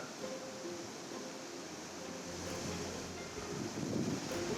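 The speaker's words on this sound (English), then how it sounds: "Rivers swell, and the resulting floods are fast and furious." Rushing flood water of a swollen river pours past in a steady roar, faint and distant, building slightly toward the end, with no voices.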